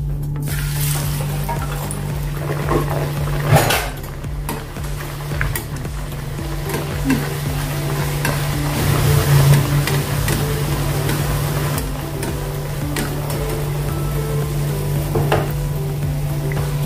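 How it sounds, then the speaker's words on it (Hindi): Jowar (sorghum) puris deep-frying in hot oil, a continuous dense sizzle with a steady low hum underneath and occasional clinks of a utensil. "अभी अपनी पूरी तलकर तैयार हो गई है।"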